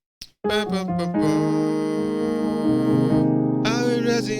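Sustained piano chords from a gospel song, struck after a brief opening note and held ringing, shifting to a brighter voicing near the end, played solo with no talking.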